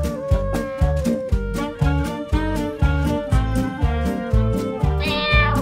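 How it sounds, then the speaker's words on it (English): A cat meow used as a quiz buzzer in a team quiz show repeats in a steady rhythmic loop, about a dozen loud, close, tonal meows in quick succession, alone without talk. "can you make a cat noise?"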